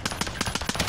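Rapid automatic gunfire from a video game, about ten quick evenly spaced shots in a single second, moderately loud with no talk over it.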